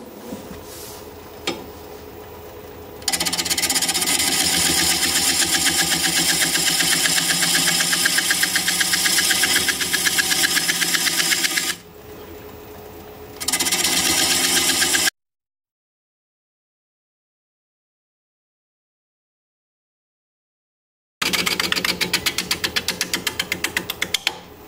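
A wood lathe spins an out-of-balance bowl at 390 rpm while a gouge cuts it, giving a loud, steady, rhythmic mechanical whir. The sound cuts out briefly, returns, stops for several seconds of silence, then starts again.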